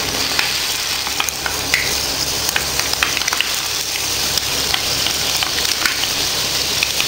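Mango pickle ingredients are poured slowly into a hot pan for avakaya, giving a continuous loud sizzle and bubbling with crackling pops and stirring sounds, and no one speaks.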